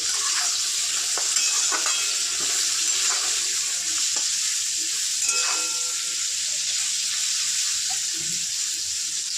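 Vegetables frying in a pan with turmeric and salt during home lunch cooking, a steady broad sizzle running throughout with occasional clinks and stirring scrapes, close and continuous, no talking.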